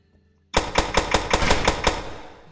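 Rapid shotgun blasts from a weapon in the Physics Playground VR game, about seven sharp loud shots in a fast steady rhythm after a short silence, each with a brief echoing tail.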